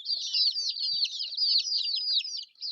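Backyard chickens kept with their chicks, giving a steady run of high chirping and clucking calls close by for nearly three seconds, with no talk over them.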